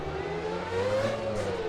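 Race car engine in a sim racing game, roaring through a tunnel with strong reverberation, holds a steady droning note that rises slightly mid-clip, with no voices over it.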